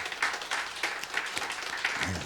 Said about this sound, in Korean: 우리 속장님들 박수로 한번 격려합니다